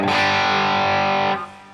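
An electric guitar with Fishman Fluence pickups plays a loud, distorted sustained chord through an effects rig, then cuts off into a short reverb tail, with no talking.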